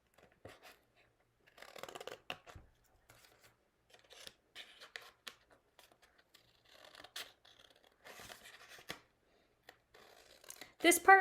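Scissors cutting out paper shapes for a popsicle-stick soldier craft, with quiet intermittent snips and paper rustles spread through, alone and close.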